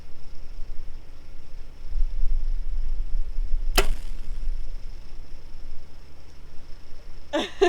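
A sharp single crack of an arrow grazing the bottom of a bow sight over outdoor background hiss, followed by faint rustling and a short burst of noise near the end.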